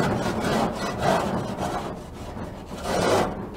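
A scraper rasps repeatedly across a dirty gas grill surface, close up, in rough back-and-forth strokes with no talking.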